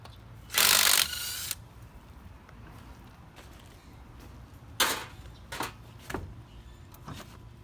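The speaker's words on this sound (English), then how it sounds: "We're gonna pull the lug nuts off. We need, I believe it's like a 19 millimeter" Lug nuts being loosened on a 1997 Ford F-150 truck wheel with a 19 mm socket, a loud burst of power tool or ratchet action followed by several shorter clicking, metallic bursts close by.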